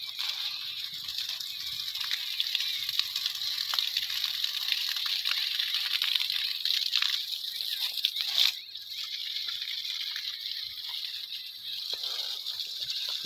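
Water gushes steadily from a borewell pipe on a farm, a constant hissing splash with a brief louder burst midway and no voices.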